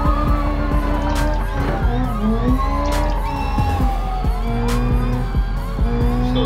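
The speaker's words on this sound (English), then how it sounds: "Taking a little spot for drifting" Car drifting in BeamNG.drive with a 40 psi turbo, tires squealing loudly and continuously in long wavering screeches over a steady engine roar.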